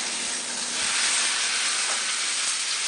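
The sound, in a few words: salmon sizzling in pan after being flipped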